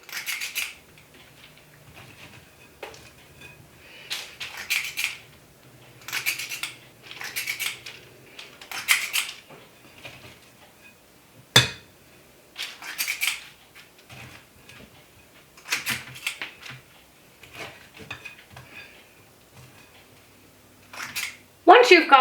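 Two spoons scrape and clink as gluten free cookie dough is scooped onto a baking sheet, a series of short metallic taps and scrapes in irregular bursts with long quiet gaps between them.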